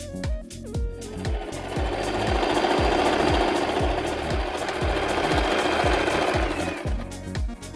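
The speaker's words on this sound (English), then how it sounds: "If you don't have this knit stitch on your sewing machine" A sewing machine stitches elastic knit fabric in rapid, rhythmic bursts, close and loud, speeding up and slowing down with mechanical whirring.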